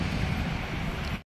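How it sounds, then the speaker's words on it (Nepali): Soft wind blows through a green garden, a steady low rushing with no voices, lasting only about a second. "हावा पनि त्यस्तै चलेछ।"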